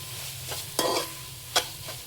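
Ground soya chunks frying in a pan for veg keema haleem, a low steady sizzle with a few sharp scrapes as the spoon stirs, fairly quiet overall.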